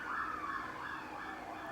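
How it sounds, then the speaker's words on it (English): A faint ambulance siren wails steadily outside, its rising and falling tone muffled and distant with low background hum and no talking. "Let's pause for the ambulance."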